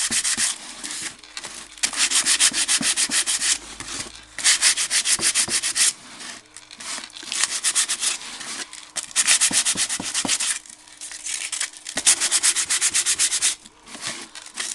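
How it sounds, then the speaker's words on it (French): Hand sanding of an old wooden box, working the edges and front, in bursts of steady scratchy rubbing broken by short pauses, close and fairly loud with no talk. "je vais poncer légèrement là où ça avait fait un peu rose là"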